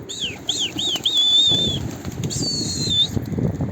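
A Mardin pigeon arrives with a burst of loud, close wing flapping in the middle, while thin whistling bird calls rise and fall above it.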